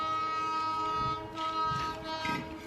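A train passes on railway tracks, a sustained tonal rumble with a steady horn-like drone and rising swells of rolling noise, moderately distant, with no speech.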